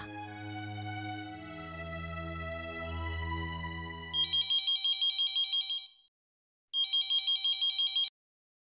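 A telephone rings in two electronic bursts at close range, following a swell of dramatic orchestral music that fades out as the ringing begins; no one speaks.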